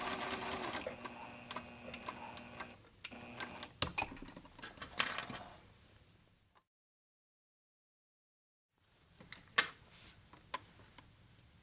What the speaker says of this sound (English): And back tack.